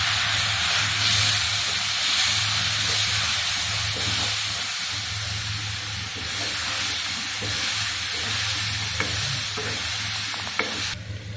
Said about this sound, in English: Going to add the hing, Asafoetida powder, onion, grated onion